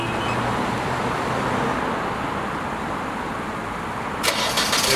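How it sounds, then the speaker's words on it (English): A car engine started from the remote starter button on its key, with a steady idling rumble and outdoor traffic-like noise, then a brief rattling burst near the end. "Starts the car for you"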